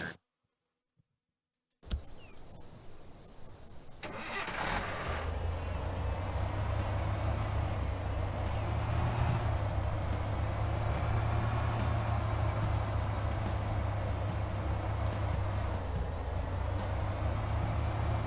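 A car engine in the video game Thief Simulator starts after a moment of silence and then runs steadily, with a low, even hum and drone continuing to the end.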